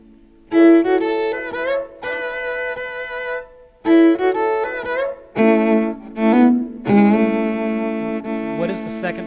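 Two violins play an intro in harmony, layered sustained bowed notes in several phrases with brief gaps, full and close-sounding with no talking.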